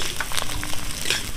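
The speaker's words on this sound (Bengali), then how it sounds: "পেঁয়াজ আর কাঁচা লঙ্কাটা একটু লাল লাল করে পেঁয়াজটা ভেজে নেব" Onion and green chilli frying in a pan with carrots while cooking homemade pasta, a steady close sizzle with faint crackles and stirring.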